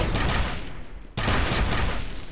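Continuous heavy gunfire in the video game F.E.A.R. roars loudly and close, with a brief dip near the middle before the dense blasting resumes.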